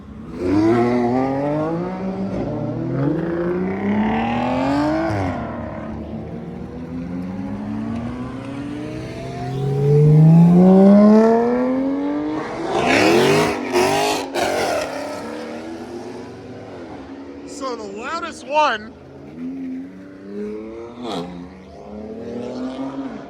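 Dodge Scat Pack and Lamborghini revving hard at a street gathering, repeated loud engine pulls climbing and dropping in pitch, one close roaring blast near the middle, then lighter crackling revs trailing off.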